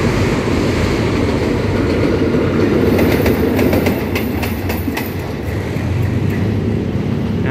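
A diesel locomotive accelerates past a Prachachuen Road railroad crossing, its heavy engine roar layered with rhythmic clanking of wheels over rail joints.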